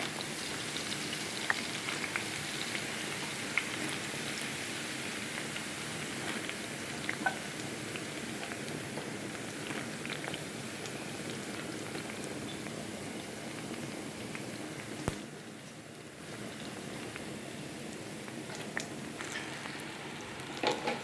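Cubed, seasoned eggplant frying in hot oil, a dense, even crackle and hiss that runs on steadily with a brief softer lull near the end, close by and without speech.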